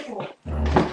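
A dog indoors gives two short, close barks or yips separated by a brief pause, loud and without talk.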